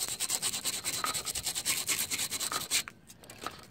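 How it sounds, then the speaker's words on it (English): A paint clump on a GY6 scooter body being sanded down by hand: rapid, steady back-and-forth rasping strokes up close, stopping abruptly near the end with only faint scraping after. "Maybe we can sand it down a little bit more."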